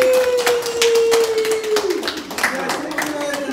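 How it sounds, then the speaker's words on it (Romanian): A group claps together at a surprise birthday celebration with flowers and cake in a village in Ialoveni district, Moldova. Rapid, close hand claps run through the clip over a steady tone, with voices also present. "Iar noi aplaudăm o dată!"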